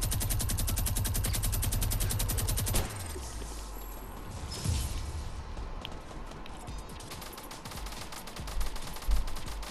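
Gunfire in the Fortnite video game, a rapid steady burst of automatic shots for several seconds, then scattered louder impacts and crashes amid busy game noise.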